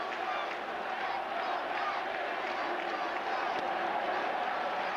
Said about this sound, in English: And the Yankee fans in the crowd start their chant.